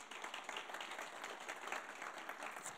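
A church congregation applauds, a dense, even wash of many hands clapping at a moderate distance, sustained throughout without voices standing out.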